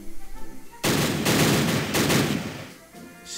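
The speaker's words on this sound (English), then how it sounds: "That Whippet machine gun should be performing a lot better than it is." A Whippet tank's machine gun fires a sustained burst in the WW1 strategy game Battle Academy, a dense loud rattle of rapid shots lasting about two seconds after a quiet start, then tapering off.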